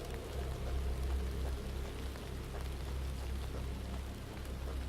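Rain in a horror video game, a faint, continuous patter of drops on surfaces over a low rumbling background, with no speech.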